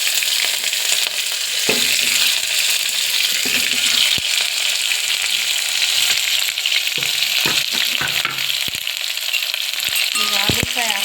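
Green chillies fry in hot oil in a pan for a bitter gourd fry, giving a loud, steady sizzle that runs continuously, punctuated by occasional scrapes and knocks of a stirring spoon against the pan.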